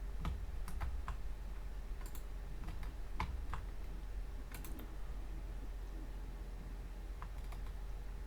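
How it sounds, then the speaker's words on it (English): Close, crisp clatter of keys being typed on a laptop's built-in keyboard, irregular bursts of taps and pauses over a low steady room hum, with no talking. "I guess I'm typing on the actual laptop since Padme won't let me put my keyboard in"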